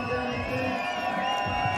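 A skateboard street contest crowd at FWS 2019 in Montpellier roars and whoops after a rider's run, a dense, sustained wall of cheering and shouts at steady loudness.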